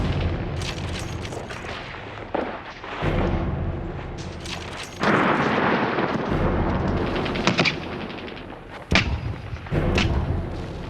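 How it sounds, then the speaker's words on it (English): Mortar, sniper and machine gun fire fill a wartime battle scene with booming blasts, sharp cracks and rattling bursts at varying distances, some loud and close, others farther off. "mortar, sniper, and machine gun fire"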